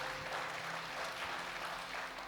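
Quiet, steady applause from a church congregation during a sermon, a soft continuous patter of many hands clapping at a distance, with no voices over it.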